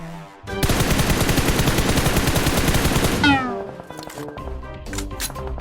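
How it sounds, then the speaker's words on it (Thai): Rapid automatic gunfire in PUBG Mobile, a dense, loud stream of shots for about three seconds, then scattered lighter shots and clatter with a faint voice in the background. "ใครมันยิงมา"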